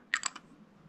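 A Lamy Studio fountain pen cap snapping onto the pen, two or three quick, close, sharp clicks in a fraction of a second, alone in a quiet room.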